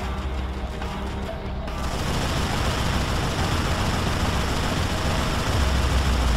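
Sustained dense gunfire from Tomb Raider Legend, a loud continuous rattle of rapid shots with a low rumble beneath, no talk.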